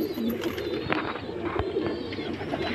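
A female pigeon coos softly and repeatedly up close, low throaty calls over faint background rustling, no speech.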